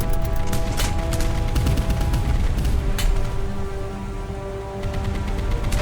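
Rapid automatic cannon fire from a single Bofors gun on a PT boat in a naval combat video game, loud, dense bursts of shots running almost continuously with no talking.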